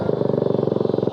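A 125cc motorcycle fitted with a louder aftermarket exhaust idles close by, its single-cylinder beat a steady, rapid, even thump that stays loud throughout.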